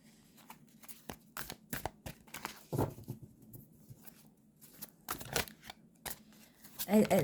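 Tarot cards shuffled by hand in a series of quick riffling and flicking bursts with short pauses between, close and fairly quiet, ending with a slightly louder flurry.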